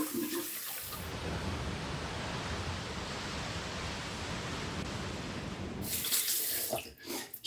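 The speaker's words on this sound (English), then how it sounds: "So I'm going to rinse off now." Water from a bathroom sink tap runs in a steady, hissing stream while someone rinses off after shaving, then cuts off near the end with a few splashes and drips.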